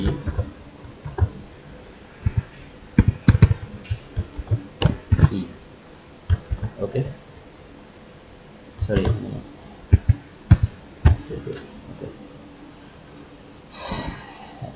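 Computer keyboard keys are typed in short clustered bursts of clicks, close and moderately loud, with pauses between groups while someone speaks quietly at intervals.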